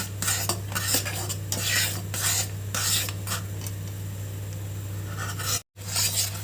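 Kheer, a milk pudding for patisapta pitha, being stirred in a pan: repeated close scraping strokes in a steady rhythm over a constant low electrical hum, with a short dropout near the end.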